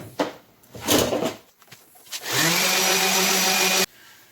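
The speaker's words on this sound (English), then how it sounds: "take my hand sander and just go over the whole stick, sand it all up real smooth" Hand sander working over a wooden hiking stick, a steady loud buzzing grind for over a second after some handling knocks and scrapes, then stopping abruptly.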